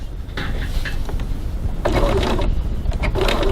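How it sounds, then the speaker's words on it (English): A sewing machine set to its longest stitch runs in steady bursts, basting piping around a pocket with a close mechanical whirr and clatter. There is a short pause, then a louder run. "I'm going to set my machine at its longest stitch length, which is 5, and I'm going to baste in place all the way around the pocket."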